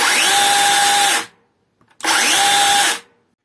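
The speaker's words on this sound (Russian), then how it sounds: "Плавного старта у данной пилы нету, но зато есть быстрая остановка цепи." A DEKO DKCHS 40 PRO cordless battery chainsaw revs up twice, each burst a loud steady motor whine lasting about a second before the chain brakes to a quick stop, with a short silent gap between runs.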